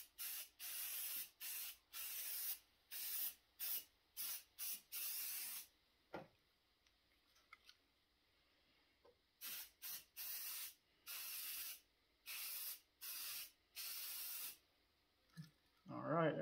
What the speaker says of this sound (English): I got to put some primer on it. I'm just going to put one good coat on it.